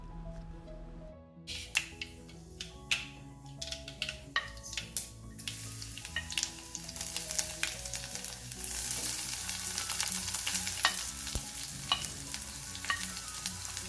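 Mustard and fenugreek seeds fry in a tablespoon of coconut oil for a sweet and spicy eggplant dish, a steady close sizzle with scattered sharp pops and spatters, building in intensity and with occasional stirring clinks.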